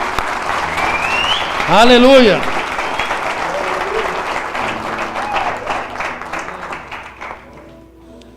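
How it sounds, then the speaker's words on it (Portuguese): Congregation applauding during a church service, a dense wash of clapping sustained throughout while a preacher's voice shouts over it and a brief sung or cried exclamation rises above the crowd. "Aplauda o Senhor."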